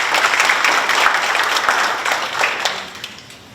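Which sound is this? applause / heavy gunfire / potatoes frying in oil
applause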